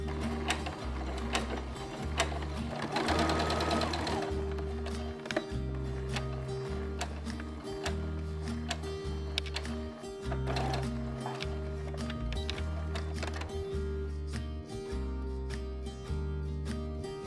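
A sewing machine stitching folded fabric along a line, its needle running in rapid bursts separated by short pauses, close and clear with small mechanical clicks, no talking.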